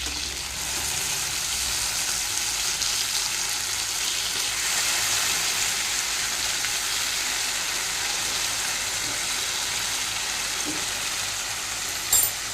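Fish fries in oil in a covered pan, giving a steady, dense sizzle that holds at an even level throughout with no talk, and ends in a brief clatter.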